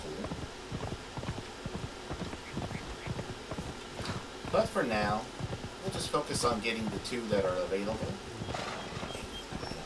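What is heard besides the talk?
horse galloping hooves in video game Conan Exiles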